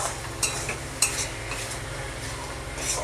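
Spices with turmeric sauté in a pan, a constant close sizzle broken by a few quick scraping strokes of a stirring spoon against the metal, no voices.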